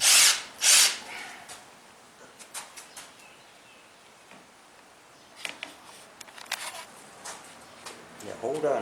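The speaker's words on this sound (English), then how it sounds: "going to drill some holes." A power drill bores holes into wooden barn-door boards for a garage, with short loud bursts at the start and scattered whirring and clatter later, close by.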